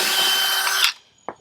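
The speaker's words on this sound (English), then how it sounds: "Let's drill another hole" A power drill bores a hole in a wooden deck board, a loud steady whine for almost a second that stops abruptly, followed by a short knock.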